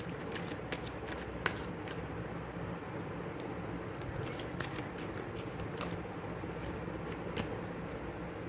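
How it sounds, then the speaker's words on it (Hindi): Oracle cards from an energy oracle deck are shuffled quietly and continuously, with repeated soft riffling flicks and light slaps in a steady rhythm, close by and alone. "अब हम एनर्जी ऑरिकल से कुछ कार्ड्स ले लेते हैं।"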